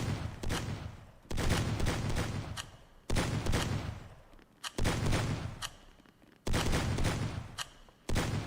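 Bursts of rapid gunfire in a shooting video game, four loud volleys separated by short quieter pauses, with no speech.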